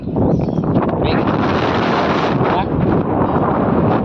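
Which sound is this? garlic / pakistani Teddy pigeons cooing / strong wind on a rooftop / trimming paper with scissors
strong wind on a rooftop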